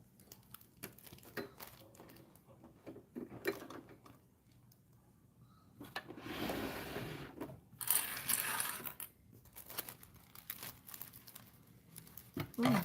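Scissors snip sewing thread on a Dollar Tree craft sewing project, giving a few brief clicky cuts mixed with soft fabric rustling and handling noise, close by.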